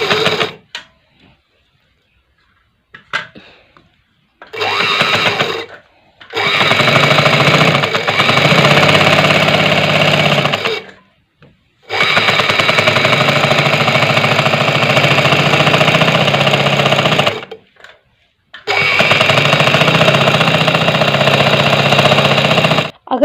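A sewing machine stitches a shuttle lace edge onto fabric, running in loud, fast, buzzing bursts of several seconds each, separated by short pauses.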